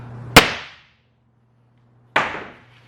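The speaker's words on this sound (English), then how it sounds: "We got the trusty hammer, and we're gonna give it a nice little tap." A hammer taps a piece of wood during a wood-density test: two sharp, separate knocks about two seconds apart, each ringing briefly before fading into silence.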